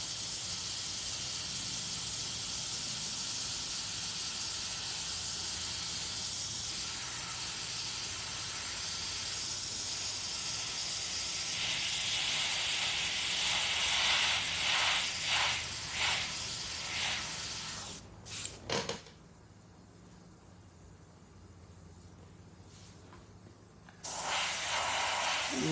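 An airbrush runs on compressed air held at about 30 psi, giving a loud, continuous spray hiss that pulses in places. It cuts out for several seconds, then resumes.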